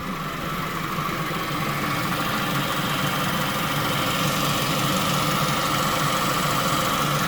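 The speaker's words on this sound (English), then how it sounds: "Alright, the compressor is engaged." Steady, even hum of a 2017 Kia Sportage engine idling with the AC compressor engaged, a constant close drone with no voices.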